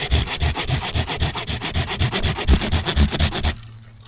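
A Woxna folding saw cuts through wood in steady pull strokes, a rhythmic rasping of about sixteen close strokes that stops abruptly near the end, heard up close with no talk.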